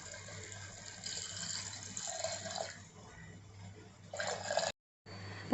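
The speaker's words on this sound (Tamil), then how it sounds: "இப்போ இந்த புளி தண்ணியை நம்ம இது சேர்த்துக்கலாம்" Tamarind water poured from a vessel into a pot of vegetables cooking on the stove, a steady liquid splash and trickle lasting several seconds, close by, ending in a brief silence and a last splash.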